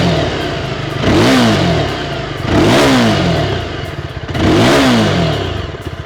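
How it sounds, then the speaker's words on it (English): Yezdi Scrambler motorcycle with dual exhaust revved three times in a row, each blip rising and falling in a grunty, loud, close exhaust note over a steady idle. "now you can hear the exhaust note."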